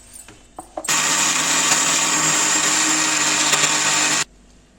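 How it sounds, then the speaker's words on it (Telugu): A mixer grinder grinding sugar with cardamom pods starts abruptly after a few clicks, roars at a steady high-pitched whir for about three seconds, then cuts off sharply, loud and close with no talk. "ఈ పంచదారలోనే 4 యాలక్కాయలు వేసుకుని మిక్సీ పట్టేద్దామండి."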